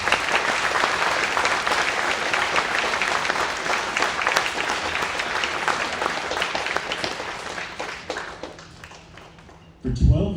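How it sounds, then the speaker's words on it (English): At a high school band concert, a hall audience gives a long, full round of dense applause that gradually thins and fades, followed by a brief louder voice at the very end. "can we have a round of applause for all of those people that help make this possible?"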